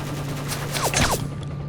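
Gunfire in the video game Stalker: Clear Sky, a short burst of rapid shots over a steady game hum, loud and close, with no talk.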